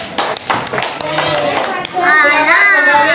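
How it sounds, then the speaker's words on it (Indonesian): Classroom applause for a student group: a short burst of hand claps and taps among children's voices, with kids chattering throughout and louder excited voices rising near the end. "tepuk tangan untuk kelompok 1"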